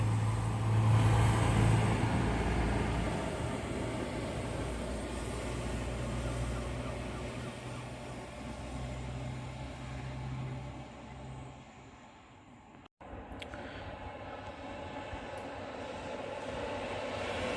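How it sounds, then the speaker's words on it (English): Delayed 2103 Manchester Airport to Barrow in Furness passenger train passing, a loud, steady rumble and rush of rail noise sustained throughout, with a brief dropout near the end. "Train passing now is the delayed 2103 Manchester Airport to Barrow in Furness"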